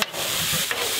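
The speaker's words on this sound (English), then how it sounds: "3 kilos of beef strips on the barbecue." Three kilos of beef strips fry on a custom-made barbecue at a camp in the Simpson Desert, giving a steady, close hiss and sizzle that runs without a break, with a brief louder crackle near the start.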